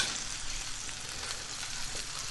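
Steady, soft sizzling of food frying in a hot pan, a continuous crackle with no voices.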